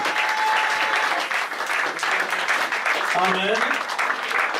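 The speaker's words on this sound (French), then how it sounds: "Acclamons très fort pendant que les frères retournent" Loud, sustained applause fills a church congregation, dense clapping that continues throughout, with a voice calling out over it partway through.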